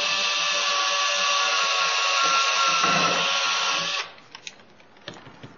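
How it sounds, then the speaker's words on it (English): A cordless drill whirs continuously for about four seconds while working on a model railroad layout, then cuts off. A few small clicks and taps follow, and no one speaks. "hooray for cordless drills"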